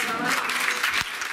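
Brief applause rises from the audience at a children's music recital: a dense wash of many hands clapping, steady and moderately loud, cut off after a moment.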